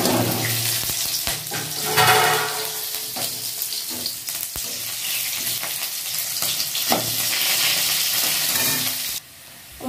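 Chili and onion frying in hot oil in a home kitchen, a steady loud sizzle with stirring clatter throughout, briefly dropping away near the end.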